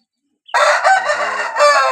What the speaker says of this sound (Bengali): আপনারা দেখলা খুব সুন্দর একটা মুরগ আমার